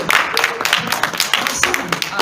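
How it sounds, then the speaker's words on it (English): Light, scattered golf-style clapping from a panel audience at a Walking Dead fan convention, a brief patter of quiet hand claps mixed with room murmur. "That's for the golf clap"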